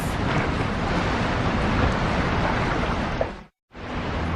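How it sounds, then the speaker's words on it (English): Storm surge churns under the sea against the seafloor, a dense, loud roar of turbulent crashing water that holds steady, then cuts briefly to silence before resuming. "The storm surge tears into the seafloor."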